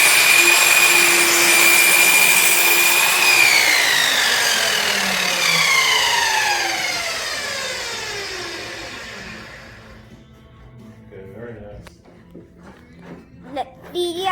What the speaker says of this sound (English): So let's cut this second piece.